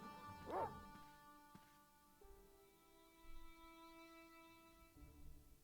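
A dog in the point-and-click video game Broken Sword gives a single sharp yip, followed by quiet game ambience and music tones, all faint and at low level.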